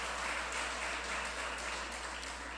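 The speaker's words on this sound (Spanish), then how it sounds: "Denle un aplauso al Señor." A church congregation applauds during a sermon, a continuous wash of clapping that holds steady for a few seconds, moderately loud and without pause.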